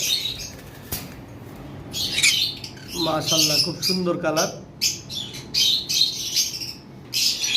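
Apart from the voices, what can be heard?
pet birds chirping and flapping wings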